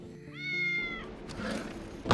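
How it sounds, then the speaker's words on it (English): A cat in the Tales of the Neon Sea video game gives a single clear, rising-then-falling meow, followed by brief soft noises and a short burst of sound at the end. "Oh, hey, kitty."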